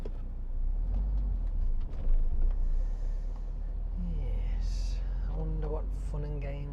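Road traffic rumbling steadily around a car sitting in slow traffic on the way from Wombourne, with a constant low engine drone and passing vehicle noise throughout, plus brief higher tones near the end.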